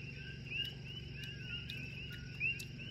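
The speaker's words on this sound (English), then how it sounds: "Now you guys can hear the Coqui frogs, yeah?" Coqui frogs call outdoors at night in a faint chorus of sharp, chirping whistles repeating at irregular intervals over a low background hum. Insects also sound, and no one speaks.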